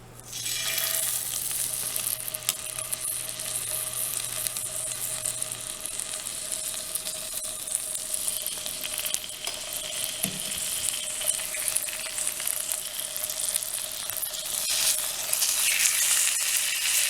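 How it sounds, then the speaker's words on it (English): Chicken frying in butter in a pan, a bright, steady sizzle that stays loud and close, with a brief clunk partway through. "you know that it's ready when the butter is sizzling like this"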